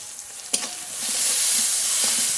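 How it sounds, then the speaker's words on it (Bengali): Chopped onion with tomato, salt and turmeric stir-fried in a hot pan for chicken kosha, a loud continuous sizzle with a clack of the spatula early on, close and without talk. "পেঁয়াজটা একটু হালকা করে নেড়ে নেব টমেটো কচি লবণ হলুদ গুঁড়ো"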